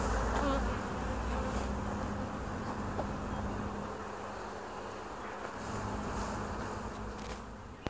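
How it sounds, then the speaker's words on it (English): Honey bees swarm around a hive, giving a steady, dense buzzing drone that holds close and fairly loud from start to finish, with no talking. "all these bees are going like, this is not my queen."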